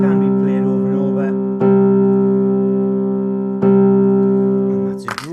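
A sustained drone note is held on a keyboard, a steady tone rich in harmonics that is struck again twice at even intervals and then cut off.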